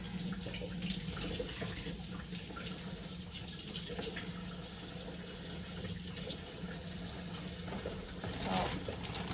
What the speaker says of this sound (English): Let's keep the water running.